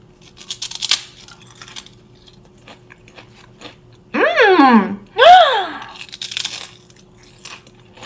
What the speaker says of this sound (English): It's organic white truffle potato chips. I'm gonna give it a try on camera.